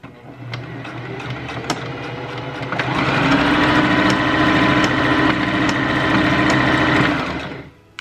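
A sewing machine stitches a fabric scrunchie closed, starting with a few slow clicks and then running in a steady, close, whirring burst for several seconds before stopping.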